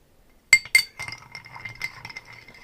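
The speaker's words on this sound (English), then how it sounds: "Then all you want to do is stir it up a little bit more." A spoon stirs a gin and crème de menthe cocktail in a glass: two sharp, bright clinks open it, followed by a run of softer clinking and light rattling against the glass, close up and without talk.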